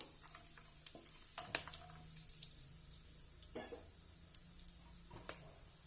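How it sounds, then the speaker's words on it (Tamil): Cumin and fennel seeds with whole spices frying in a pan for chicken donne biryani: a faint, steady sizzle broken by a few sharp clinks and scrapes of stirring. "அதுக்கப்புறம் இந்த ஜீரகம் சோம்பு கொஞ்சம் போடுறேன். போட்டு லைட்டா அப்படி மிக்ஸ் பண்ணி விடுங்க."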